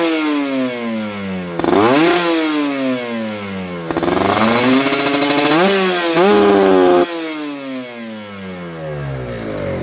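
A motorcycle engine fitted with a reamed PWK 30 carburetor revs repeatedly, each loud, close sweep climbing quickly in pitch and falling back, with several blips in a row and no talking.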